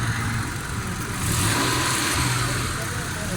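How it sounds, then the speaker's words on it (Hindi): Suzuki Mehran car engine running smoothly at idle just after an oil change and tuning, a steady close mechanical hum with a slight rise in revs midway, with people talking over it. "ये माशाल्लाह गाड़ी स्टार्ट है, बिल्कुल स्मूथ है, साउंड भी ठीक है"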